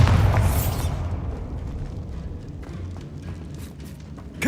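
Bombarda explosion spell going off in Hogwarts Legacy, a heavy boom at the start that decays into a rumbling tail, with faint game clatter and another thump at the close.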